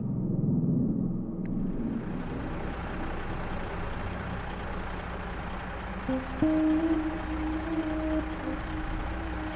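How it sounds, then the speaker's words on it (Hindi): A vehicle engine rumbles steadily as the car jolts along a rough track, with low droning and occasional clunks and a rising whine near the end. "देख रहे हैं जग्गूदा, ये रास्ता इंसानों के चलने लायक बिल्कुल भी नहीं है और हम गाड़ी लेकर जा रहे हैं"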